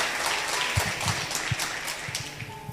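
Church audience applauding during a leaders' seminar, a steady wash of clapping with scattered louder individual claps, moderately close and continuous throughout.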